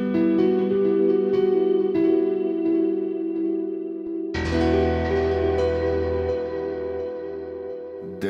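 A VPS Avenger synthesizer preset with a piano-like voice plays sustained tones with echo, shifting to a brighter, fuller texture partway through.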